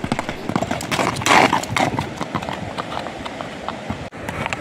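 A horse walks with a steady clip-clop of hooves, close and fairly loud, the regular strikes continuing alone with no talk over them.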